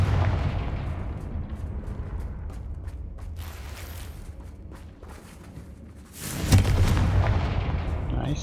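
A Confringo blasting spell goes off in Hogwarts Legacy, a sudden loud boom near the end that follows a stretch of low rumbling and clattering game sounds.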